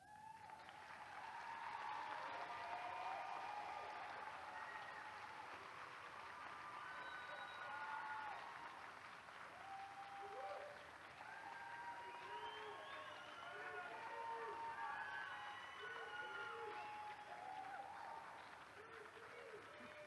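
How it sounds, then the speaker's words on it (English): Audience clapping for graduating seniors at a Camden Early College High School graduation: a long, steady wash of applause from a large crowd, with scattered voices and cheers mixed throughout. "I want you to clap for our seniors."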